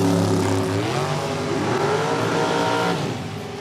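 Super Comp drag race cars roar down the strip at Norwalk, loud engines rising sharply in pitch as they accelerate, then fading slightly toward the end.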